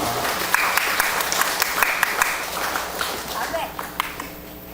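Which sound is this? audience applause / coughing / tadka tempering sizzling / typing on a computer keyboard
audience applause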